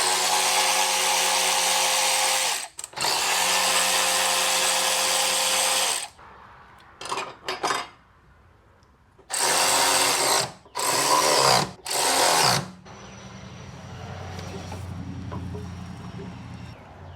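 A power tool, likely an impact gun, zips bolts off a supercharged Dodge Charger Pursuit in several loud, close bursts separated by short pauses, with a steady hum between them.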